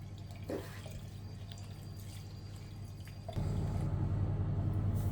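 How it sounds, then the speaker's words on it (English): A polishing pad from detailing an Audi A1's paint is rinsed under a running tap, a steady wash of water that swells louder near the end. "I rinse it under water and squeeze it like a sponge softly"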